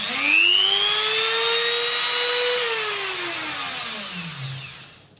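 An upgraded flex shaft rotary tool whines up to speed, holding a high steady tone for a couple of seconds before the pitch slides down as it winds off, loud and close, with no talk.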